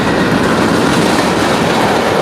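Passing train with a loud, steady roar of rolling wheels and rail rumble filling the whole moment, close by and continuous.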